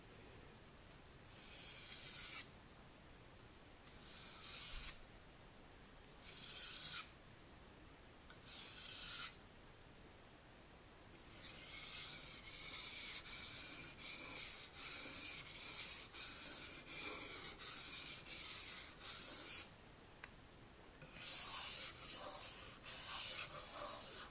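A kitchen knife drawn across a sharpening stone in bursts of rasping strokes, short separated runs at first, then longer continuous passes, close and fairly loud with no talking.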